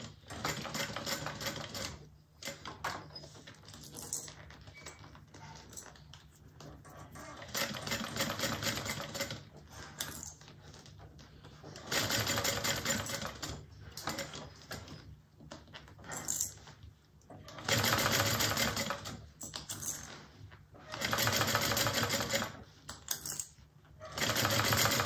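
A sewing machine stitches a bag in several long bursts separated by short pauses, loud and close, with a steady whirring and rapid needle rhythm.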